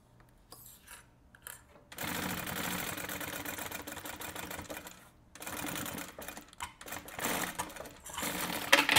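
A sewing machine with a presser foot stitching a 7 mm seam in a straight line, starting after a short pause with a fast, even mechanical whir, stopping briefly, then running again in bursts.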